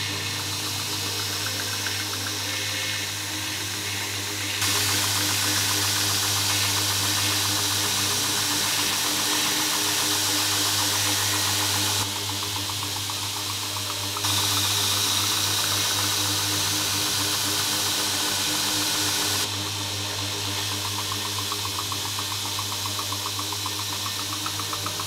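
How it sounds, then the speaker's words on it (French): Knife blade sharpened on a backstand belt grinder, a steady loud whirring belt drone with grinding passes swelling louder in several long stretches, no talking. "mettre mon couteau tranchant vers moi comme ceci, faire plusieurs passages"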